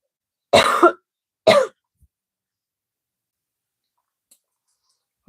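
Two short coughs or throat-clearing bursts from a person close to a shoulder-mounted microphone, a second apart, followed by near silence.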